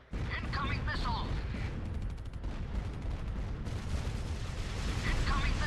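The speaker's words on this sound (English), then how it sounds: "Incoming missiles." Video game battle with incoming missiles and gunfire, a dense, continuous roar of explosions and shots filling the scene, with brief bursts of rapid crackling fire near the start and end.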